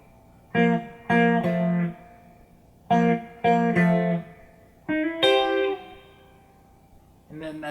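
Electric guitar plays the first-verse part of a song as in the recorded version: clean chord stabs in short repeated phrases with gaps between them, close and clear, with no voice over the playing.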